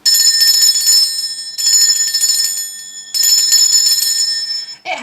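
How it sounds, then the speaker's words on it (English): A bell rung to cleanse a space gives a loud, sustained ringing tone in three long bursts, each shimmering with bright overtones, with a short sharper sound at the very end. "I'm going to be ringing a bell real quick"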